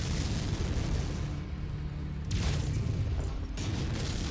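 Missile explosions slam into a mech in the MechWarrior 5 video game, a dense run of deep, rumbling booms that swell and overlap with sharper blasts breaking through near the middle and end.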